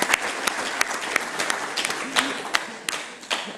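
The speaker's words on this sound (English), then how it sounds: "we should just give him a round of applause right now for trying it out." A conference audience gives a short burst of applause, scattered individual claps standing out within a brief, moderately loud round.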